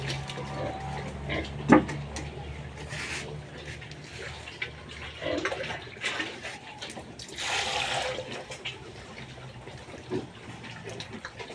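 Pig in its pen on a backyard farm, with scattered grunts and shuffling at moderate distance over splashing water and background activity, along with occasional faint voices.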